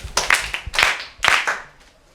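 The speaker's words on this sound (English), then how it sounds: "Okay, claps for her." Students in a maths classroom clap in three short, close bursts of hand claps, each a quick cluster of sharp slaps with brief gaps between them.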